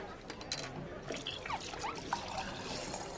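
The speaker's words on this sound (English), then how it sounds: "we'll pull a pint, do we?" Beer runs from a pub tap into a pint glass in a short trickling, splashing pour with a few small drips, set against quiet room sound and a faint voice.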